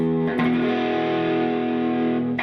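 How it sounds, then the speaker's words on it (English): A sustained distorted chord rings out on a Chibson Les Paul copy electric guitar, with a steady electrical hum and buzzing feedback under it and a short scrape at the end. "there's a little bit of feedback, buzzing"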